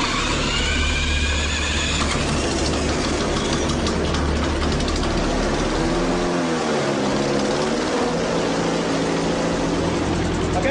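A small propeller-driven engine runs steadily and loud throughout an EMP generator test aimed at disabling it, a continuous droning roar with a wavering tone partway through.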